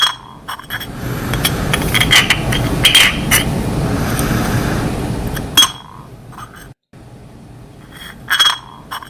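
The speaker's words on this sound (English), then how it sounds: "All right, and there we have the glass sounds." Glass made on an FDM 3D printer clinks and scrapes, with bright chinks and rattles, a dense burst of handling noise for several seconds, a pause, then a few more sharp taps near the end.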